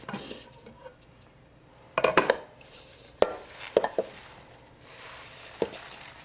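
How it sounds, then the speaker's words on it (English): Kale being tossed into a pot of split pea and kale stew, heard as scattered close clatters and knocks of lid and pot among soft rustling, with a few sharp taps spread unevenly over several seconds. "I'm just gonna open the lid, toss in the kale, and let it go for about another 30 minutes"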